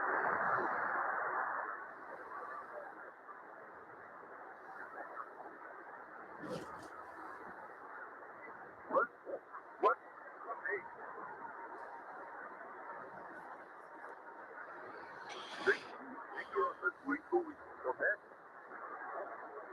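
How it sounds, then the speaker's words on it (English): Hissy, crackly audio from a Tecsun H501X shortwave radio receiver with faint voices and bursts of static, a steady murky band of noise broken by short clicks and blips. "This is the sound of my Tecsun H501X."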